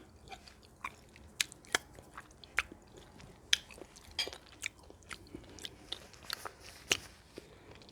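Grits and catfish are eaten close to the mic in a quiet room, with soft irregular bites and chewing crunches scattered every second or so.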